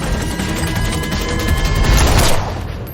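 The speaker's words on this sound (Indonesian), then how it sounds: "Eve mengejar mobil itu sambil menembaki mereka" A film car chase with a rapid, dense burst of gunfire and heavy booming impacts, loud and close, swelling toward the end and then dropping away.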